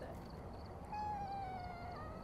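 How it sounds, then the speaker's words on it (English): A house cat lets out a drawn-out, wavering meow, loud and close, rising out of a low background hiss and trailing off after about a second. "You're not hearing my cat go crazy."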